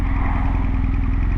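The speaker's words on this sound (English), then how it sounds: "the lazy boxer engine, when it revs up, the torque is amazing" Motorcycle boxer engine revving on a ride toward the New Forest, a loud, continuous throbbing drone with a steady pulsing beat, heard close up.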